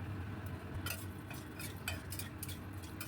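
Whole garam masala and cumin seeds crackle faintly in hot oil in a pan, with a low steady hiss and a few sharp utensil clicks and scrapes against the metal, quiet and close.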